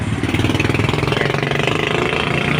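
The faulty motor of a 3D electric fan runs with a rough, pulsing whir, a fast regular throb that stays loud and close for the whole stretch.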